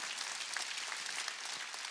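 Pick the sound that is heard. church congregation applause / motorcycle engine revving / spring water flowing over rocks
church congregation applause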